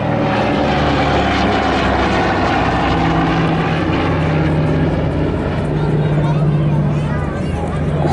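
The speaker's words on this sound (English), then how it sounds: "the two Pratt & Whitney twin Wasp radial engines that are in a double row configuration and air-cooled" A Douglas Dakota's two air-cooled, double-row Pratt & Whitney Twin Wasp radial engines drone loudly and steadily throughout, a thick rumbling propeller roar at an air show.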